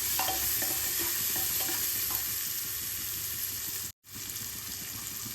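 Peas fry in a pan with salt and chili while being stirred: a loud, steady sizzle with scraping stirring strokes, close up, cutting out briefly near the end, with no voices.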